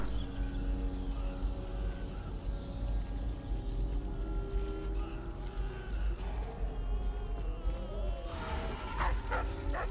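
A dog barks and yips in Dishonored amid game ambience and tonal background music, the calls growing sharper toward the end.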